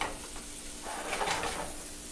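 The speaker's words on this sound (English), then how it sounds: "Sizzle, sizzle, little shrimp." Small shrimp sizzle in a frying pan with a steady crackling hiss that swells briefly midway, close up, with no talking.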